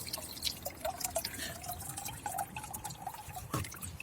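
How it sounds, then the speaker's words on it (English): Water drips and trickles from the valve of an IBC tote used as a worm compost bin. A faint, thin trickle runs continuously with scattered soft drip clicks under outdoor background noise. "see that dripping?"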